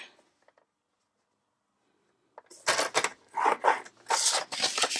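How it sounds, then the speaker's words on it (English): Stampin' Up! card stock is sliced and scored on a paper trimmer, a run of close, sharp swishing and scraping strokes after a quiet start, with no talk. "I'm going to go ahead and cut it at 5 1/2 for this card, and score it at 4 1/4."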